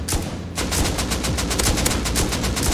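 Rapid automatic gunfire from the video game Rust, loud and close, a dense run of quick shots that starts after a brief quieter moment and keeps rattling steadily to the end.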